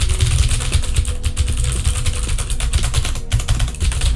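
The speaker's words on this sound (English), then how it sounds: "you can hear what a mechanical keyboard sounds like." Someone types on a Das Keyboard 4 mechanical keyboard, producing a quick, dense run of close, crisp key clicks that continues without pause.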